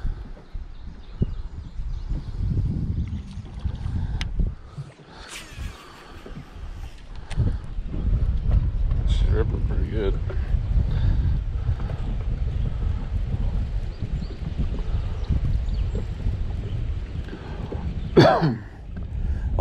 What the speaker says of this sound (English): Wind's picking up pretty good, so that might change things a little bit.